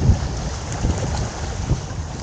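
Strong wind buffets the microphone in low, rumbling gusts at a seaside fishing spot, with the faint wash of surf beneath; no voices are heard.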